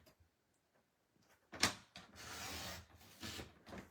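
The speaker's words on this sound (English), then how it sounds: "I'm going to take this and ever so slightly see if I can trim off that edge" Scissors trimming the edge of a handmade bee-themed card: a couple of short, close rasping snips and rubs after a near-silent pause, fairly quiet.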